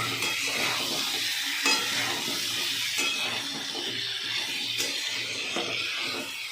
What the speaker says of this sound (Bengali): এবার এগুলো দিয়ে কষাবো।